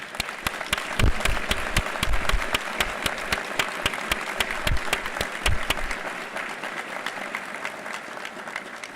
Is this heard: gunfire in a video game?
no